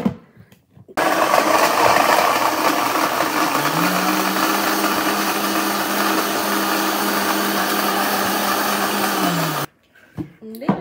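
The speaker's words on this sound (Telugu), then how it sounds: "మనం మంచిగా గ్రైండ్ చేసుకున్నాను స్మూతీని" A kitchen blender grinds a banana and oats smoothie with milk and ice cubes, running loud and steady for about nine seconds with a rising pitch shift midway, then stopping abruptly.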